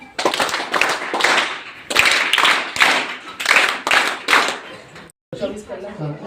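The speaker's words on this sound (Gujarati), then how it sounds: "આપણે સૌપ્રથમ 3 તાળીથી." A seated crowd honouring guests claps in rhythmic unison, sharp bursts of hand claps in repeated groups, loud and close, ending in a brief gap before a murmur of voices.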